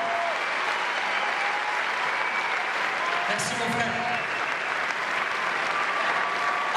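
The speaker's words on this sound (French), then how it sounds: "faites-leur un tonnerre d'applaudissements encore" A theatre audience at the Grand Rex in Paris claps in a dense, sustained round of applause after a documentary screening, with someone speaking briefly over the crowd noise.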